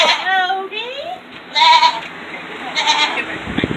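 Alpine dairy goats bleating on a muddy, rainy farm, with several wavering, nasal cries in close succession, loud and near, mixed with a person talking.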